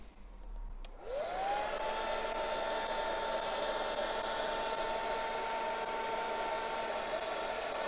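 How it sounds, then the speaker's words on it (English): A hair dryer blows on motorcycle paint protection film on a BMW 1300 GSA. It clicks on and spins up with a rising whine, then settles into a steady close airy roar that holds to the end. "then get your hairdryer"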